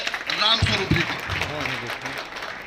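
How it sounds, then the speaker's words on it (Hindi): An audience applauds to welcome a speaker at a public event, a short burst of clapping that starts around mid-clip and fades under someone talking over it through the rest. "हम सभी के ग्रेट लीडर अनुभवी राम स्वरूप जी को जोरदार तालियों के साथ स्वागत किया जाए।"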